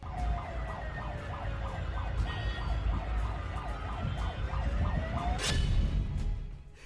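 A wailing electronic siren played from a car stopped on the Dwarka Expressway cycles rapidly up and down over steady traffic rumble, ending with a sharp burst of noise.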